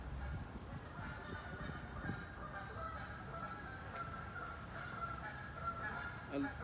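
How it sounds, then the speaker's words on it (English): A flock of geese honks repeatedly and continuously, a chorus of overlapping calls at some distance over faint outdoor background noise. "The geese are saying hi."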